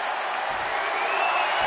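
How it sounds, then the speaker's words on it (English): A dense crowd in WWE 2K22 wrestling video game roars and cheers steadily throughout, a loud continuous wash of voices with no clear pauses. "The sound of this crowd is deafening, and he's asking for more."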